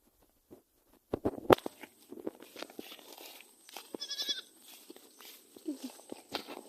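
Four mother goats in a backyard bleat once or twice amid scattered footsteps and clattering knocks, fairly quiet and near, with a voice briefly in the mix.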